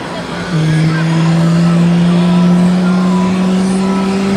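An RTAF F-16 fighter jet flies past at a Children's Day air show at Wing 4, Takhli, Nakhon Sawan, a loud sustained roar with a steady, slowly rising engine whine that begins abruptly and holds to the end.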